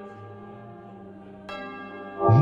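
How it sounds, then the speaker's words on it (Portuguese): A church bell rung by the sacristan during a novena service for Saint Sebastian, striking once with a bright ringing tone over a sustained organ-like drone, then a louder low clang at the end. "Toca o sino, sacristão."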